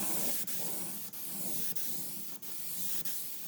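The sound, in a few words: spraying 2-component clear coat on car door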